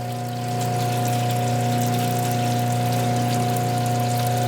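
Water running onto spinning polishing wheels while polishing hard rock, a steady hiss and splash over a constant motor hum, starting softly and then holding level, close with no talk.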